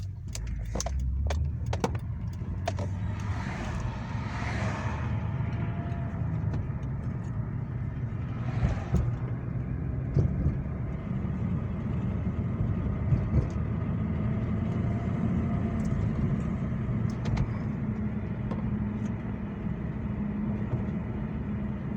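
A steady low engine drone from a 2006 Acura TL with a six-speed manual and 250,000 miles runs throughout, with a few light rattles and clicks early on, close and even in level.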